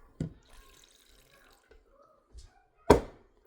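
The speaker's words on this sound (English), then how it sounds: "And I'm going to do a little bit of regular water too." Plain water goes into a blender jar of smoothie ingredients, heard as a couple of soft thunks and a brief splash near the end in an otherwise quiet kitchen.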